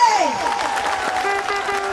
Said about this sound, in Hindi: एक बार जोरदार तालियों से स्वागत और सम्मान करिए